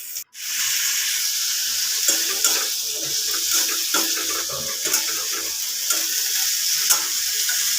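Turmeric and other spices frying in oil in a pan while being stirred, a continuous close hiss and sizzle with light scraping and tapping of the spoon, no talking.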